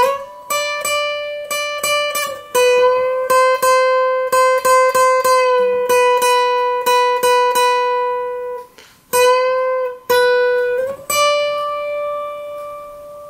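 The closing part of a song's solo, played slowly on acoustic guitar: clear plucked single notes ringing in an unhurried phrase, with a few short pauses between notes and no voice over it.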